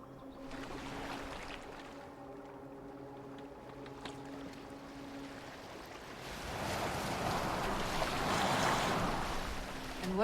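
A boat moving across open water in the video game Assassin's Creed Valhalla, with a steady wash of water and waves swelling louder toward the end, alongside a low musical drone.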